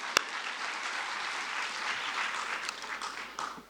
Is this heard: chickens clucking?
no